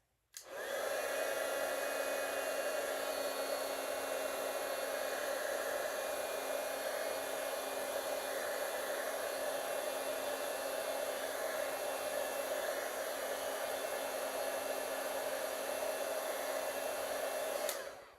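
A heat tool blows continuously to dry watercolor paint on paper, a loud, steady whirring roar close by that switches on abruptly and runs unbroken for about seventeen seconds before cutting off.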